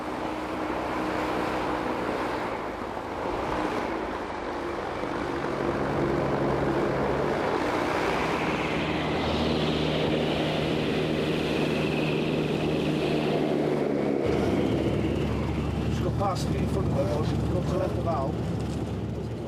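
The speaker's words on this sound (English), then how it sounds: "The hovercraft they use are low-tech and low-cost" A low-cost military assault-squadron hovercraft runs with a steady heavy engine and propeller roar that shifts in pitch partway through, while someone speaks over it.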